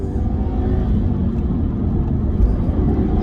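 Car driving along a road through a roundabout and onto a long stretch, a steady close engine drone with low rumbling road noise throughout, no talk.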